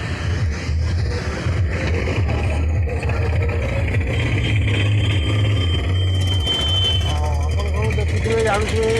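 A vehicle engine runs at a granite company, a loud, steady low rumble that continues throughout, with someone talking over it.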